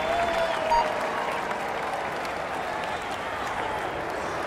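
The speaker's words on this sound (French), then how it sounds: "Allez, on l'applaudit bien fort." Crowd applause in the Tour de France 2017 video game, a cyclist on the start ramp: steady, even clapping and cheering from a roadside crowd that holds throughout without pause, moderately loud, with a faint tone passing briefly early on.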